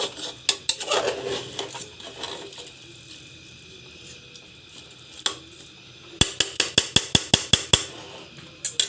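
Rice for chicken pulao being fried in a pot, a metal spoon scraping and clanking against the pot in irregular knocks, then a rapid run of sharp, loud taps near the end.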